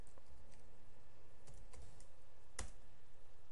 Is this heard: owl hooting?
no